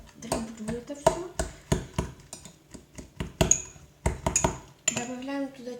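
Bananas being mashed into a paste with a utensil in a bowl, giving repeated clinking and scraping strokes at an irregular rhythm, close and fairly loud, with a voice talking between strokes.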